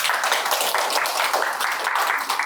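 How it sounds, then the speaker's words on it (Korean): An audience at a Korean public science lecture on architecture claps to welcome the lecturer, a dense, even patter of hands that holds steady for a few seconds without any voices. "네, 박수로 맞이해 주세요."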